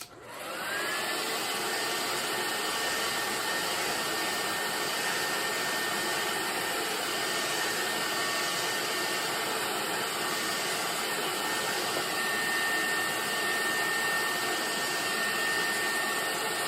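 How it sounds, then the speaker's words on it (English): A hair dryer drying masking fluid on a painting runs continuously close by, a steady loud whooshing hiss with a high whine that spins up at the start and holds. "probably it's not ideal to use a blow dryer on masking fluid"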